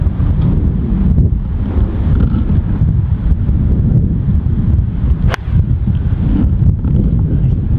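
Steady wind rushes across an open golf course, a constant low buffeting roar against the microphone with one brief sharp click partway through and no clear speech.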